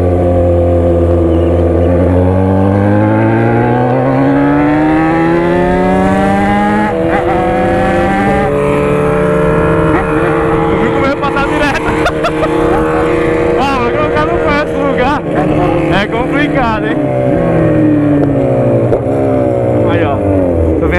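A motorcycle engine hums steadily while riding, its pitch rising and falling as the bike speeds up and slows, with wind noise and a voice talking over it.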